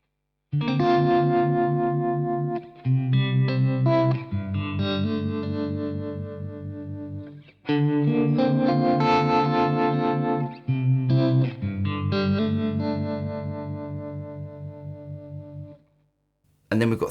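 A guitar run through the harmonic tremolo side of a Jam Pedals Harmonious Monk effect, sustained chords with a wavering, shifting tone, loud and mostly alone, ending in a brief pause.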